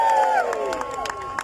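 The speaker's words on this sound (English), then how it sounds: "Round of applause yourselves again" A crowd at a pro-democracy, pro-Europe rally in Britain cheers with raised voices and scattered claps that come in short bursts over a little under two seconds.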